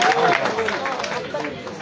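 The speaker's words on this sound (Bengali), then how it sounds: "জোরে একটা হাততালি হোক।" Audience clapping and crowd noise after a Baul song at a shrine gathering in Tongi, a broad wash of hand claps with murmuring voices, fairly loud and sustained.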